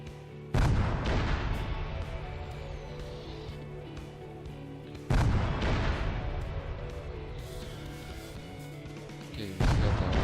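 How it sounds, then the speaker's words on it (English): Three rounds of explosive artillery shells fire in a video game, each a loud, booming blast followed by a long rumbling decay, spaced roughly four to five seconds apart with no talking. "we have our 3 rounds of explosive shells"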